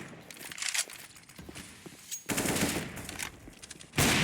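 Gunfire in a Counter-Strike match on Nuke at an ESL Challenger event crackles in rapid automatic bursts with footsteps between them, loud and close, set against game noise.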